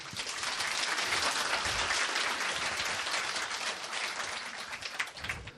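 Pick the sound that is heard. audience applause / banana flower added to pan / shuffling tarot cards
audience applause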